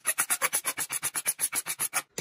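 A kitchen cleaver blade is rubbed back and forth on an ordinary whetstone, about fifteen evenly spaced rasping strokes in quick rhythm, close and crisp, with a brief pause before one final stroke.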